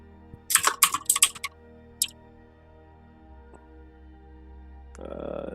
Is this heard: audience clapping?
no